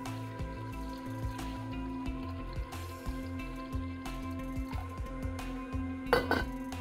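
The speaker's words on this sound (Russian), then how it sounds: "Перекладываю тыкву в сотейник, заливаю водой и ставлю варить." Pumpkin cubes tipped into a saucepan and covered with water, giving close clinks and knocks of pan and utensil, soft thuds and a brief splash of pouring water near the end, under a faint steady hum.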